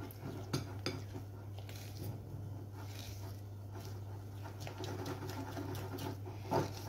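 Pistachio macaron batter is stirred in a bowl, giving soft scraping and occasional light clinks of a utensil against the bowl over a steady low hum.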